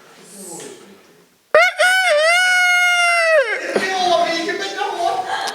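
A man imitates a rooster crowing, one loud, sustained, wavering cock-a-doodle-doo close to the microphone. It follows quieter talk and fades into a trailing murmur.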